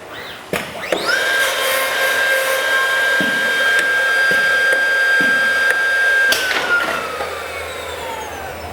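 A 965X calibration machine runs its sequence with a sustained high whine that holds steady for several seconds, marked by a few sharp clicks and clunks, then winds down; close and loud, with no talking.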